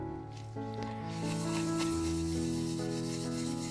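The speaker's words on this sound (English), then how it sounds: "I'll apply a nice, even coat of finish, making sure to cover all the surfaces." Cloth rubs wood finish evenly across a wooden box, a close, continuous soft scrubbing and squishing, heard beneath a sustained musical tone.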